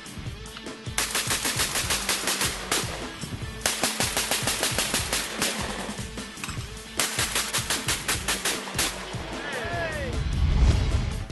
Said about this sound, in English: I shoot with a Winchester SX3, and there's no problem, no difficulty in hitting 12 clays